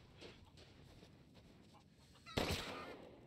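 Chickens in Resident Evil Village cluck faintly in a quiet game scene, followed by a sudden loud burst of noise near the end.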